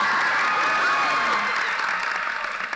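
A graduating class's commencement audience cheers and applauds in a loud, dense burst of clapping and shouting that lasts the whole moment, with no one talking over it.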